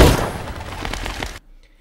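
Loud burst of film gunfire in a dramatic movie scene, a sharp blast followed by dense rolling crackle and rumble that cuts off abruptly into near silence.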